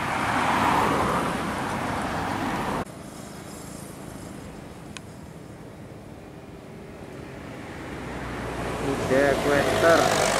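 A six- to ten-wheel UD Quester truck idles at a red light on Indonesia's Pantura highway, its low engine rumble steady under surrounding road traffic. A brief burst of wind or passing noise opens the scene, and someone speaks briefly.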